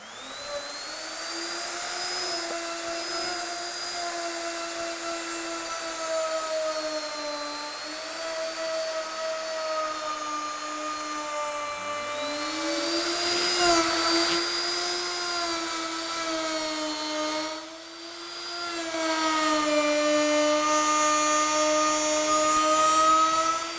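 A Ronix 7112 1850W electric router with a trimmer guide whines steadily at high speed while trimming a workpiece edge, its pitch sagging and recovering as it cuts, loud and continuous with no talk.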